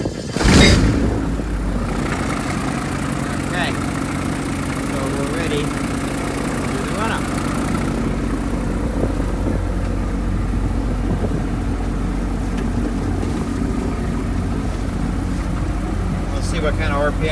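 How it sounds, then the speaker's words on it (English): A Honda engine in a light sport aircraft cranks with a sharp burst, then settles into a steady, droning idle that holds close and loud throughout, with faint clicks and minor shifts riding on the hum. "Let's start it up. I'll get a little bit of power on here, make sure this is at idle, and crank it."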